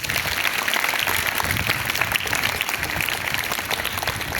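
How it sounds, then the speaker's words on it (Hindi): A Delhi government school classroom breaks into loud, dense applause, with many hands clapping steadily and without pause throughout. "दोनों के लिए एक बार जोरदार तालियां।"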